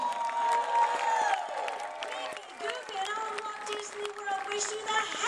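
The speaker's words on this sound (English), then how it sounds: "another big round of applause" Crowd clapping and cheering at moderate distance at an evening holiday lights opening ceremony at Disney's Hollywood Studios, steady throughout, with a voice speaking over it.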